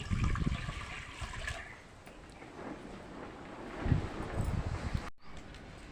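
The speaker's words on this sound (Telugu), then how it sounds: "నీళ్ళు పోసుకోవాలి" Water splashes and gushes steadily into a cooking pot for several seconds, a broad rushing pour that briefly surges before cutting off, while making chicken biryani.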